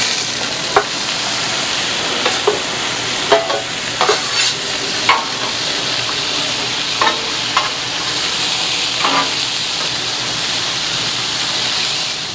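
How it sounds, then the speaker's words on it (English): Squash and onions sizzle loudly in bacon grease on a Char-Griller Gravity 980 griddle. The hiss is dense and continuous, broken by scattered pops and crackles, and no one speaks over it. "leave the bacon grease. So we'll put our squash and onions on."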